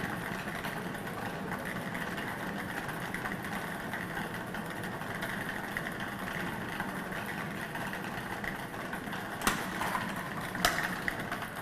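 A lottery draw machine runs for the 3 PM Quick 5 results draw, giving a steady, even mechanical whir and rumble throughout, with a couple of brief sharp clicks near the end and no talking.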